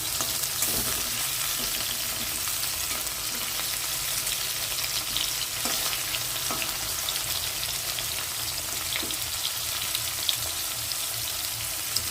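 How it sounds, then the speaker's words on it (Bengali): Shrimp frying lightly in a pan for an okra and shrimp chutney, a steady close sizzle of hot oil running throughout with a few soft scrapes and stirs, no voices. "চিংড়ি মাছটা আমি হালকা করে ভেজে নেব"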